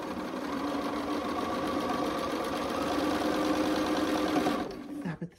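A sewing machine runs steadily on quilt fabric for a Friendship Star quilt, a continuous close mechanical whir and knock that stops abruptly near the end.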